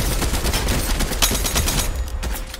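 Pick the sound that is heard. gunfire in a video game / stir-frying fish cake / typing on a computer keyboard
gunfire in a video game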